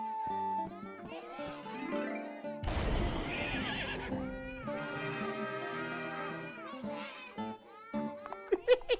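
A horse neighs in the video game Death of the Reprobate, a toy horse magically turned real, with a loud, close whinny breaking through layered game music, while hoof clip-clops and a baby's babbling cries surface around it.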